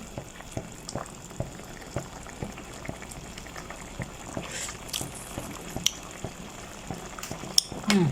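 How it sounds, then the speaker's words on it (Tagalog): A pot of water at a rolling boil for pasta, steady bubbling and popping close by with a light metallic clink of cutlery now and then, and no voices. "Yan, kumulo na siya."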